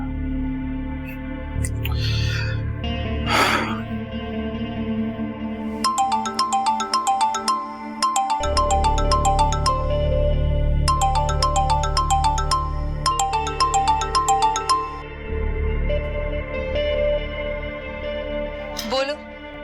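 A phone ringtone plays from an outgoing call in a drama scene, repeating in four bursts of bright electronic chiming with pauses between, over a low background hum and a few brief sounds.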